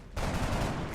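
A gunshot in the XCOM: Long War video game: one abrupt loud burst that holds as a dense rumbling roar for most of a second.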